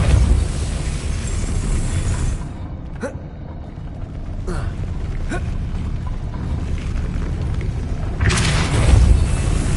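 The Depulso spell firing in Hogwarts gameplay: a loud, booming, rushing blast under a steady dense wash of game sound, with a few sharp swells and a stronger surge near the end.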